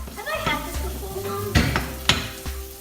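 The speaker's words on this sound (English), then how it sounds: "get your oil in your pan nice and hot because you want a little sizzle" Vegetable fritters frying in hot oil in a pan, a soft sizzle under light clinks and scrapes of utensils on cookware, with a few sharper knocks nearby and some faint background sound.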